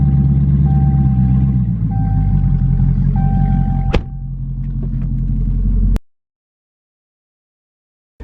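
A loud, deep, straight-piped exhaust rumble drones steadily from a nearby lowered Dodge Challenger for several seconds, then cuts off abruptly into silence.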